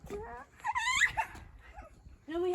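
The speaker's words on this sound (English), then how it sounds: "And we have puppies." Puppies whimper and yip in a forest, with high whining cries under children's talk across the short stretch.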